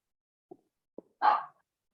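Dogs playing with stuffed toys give a few short faint yips, then a louder brief bark, with quiet gaps between and no talk.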